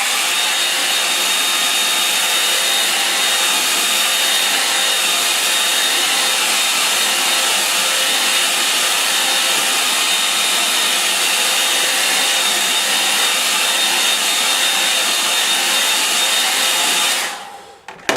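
Hair dryer blowing steadily and loudly on wet paint on a painting of Thames sailing barges, a continuous close-up whoosh that runs uninterrupted before cutting off abruptly at the end.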